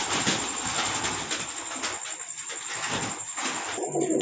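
At a pigeon sale, pigeons coo in soft repeated throaty calls near the microphone over a bed of crowd murmur and background noise, with occasional wing flutter.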